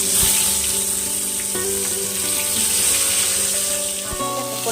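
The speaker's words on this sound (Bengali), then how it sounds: "এবার আমি একটা একটা করে মাছগুলো ভেজে নেব।" Pieces of salted, turmeric-rubbed rohu-type fish fry in hot oil in a wok, giving a steady, loud crackling sizzle throughout, with a few soft knocks and clatters of utensils near the start and end.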